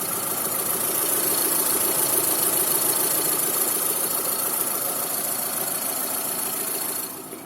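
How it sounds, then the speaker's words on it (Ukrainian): A Mitsubishi car engine with about 188,500 km on it idles steadily with a continuous mechanical hum and faint rhythmic knocking, close and even, dropping slightly in level at the very end. "ось так працює мотор."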